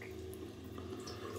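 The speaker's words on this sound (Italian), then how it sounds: "Allora apriamo l'acqua," A tap runs into a bathroom sink before a shave, a soft steady stream of flowing water with light splashing, close and quiet, no talking.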